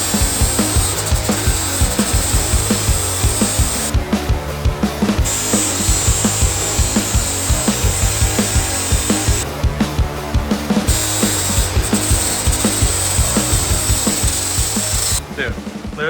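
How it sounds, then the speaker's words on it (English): A power grinder rasps steadily against spots on a Corvette radiator fitted in an LS-swapped Mazda B2200 truck, loud and close, with continuous buzzing passes broken by brief pauses. "I'm going to try to grind these spots down"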